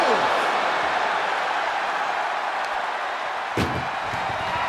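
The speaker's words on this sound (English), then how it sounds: "Trying to at least slam one door shut." Ambulance door slammed shut during an ambulance match in the WWE 2K24 video game: a single sharp bang rings out over a loud, steady arena crowd roar.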